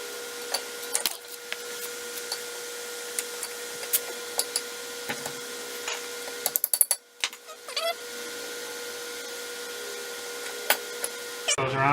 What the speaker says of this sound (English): Alright, I'm going to pop the pads on.